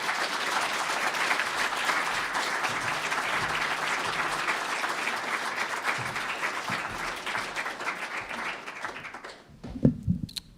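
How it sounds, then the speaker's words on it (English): An audience applauds a speaker at a mental health talk, dense steady clapping that continues for most of the stretch, then fades out abruptly near the end, followed by a few handling knocks. "Please give Janelle a round of applause"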